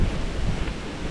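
Wind rushes through park trees in a loud, continuous roar with rough gusty texture and no other sounds standing out.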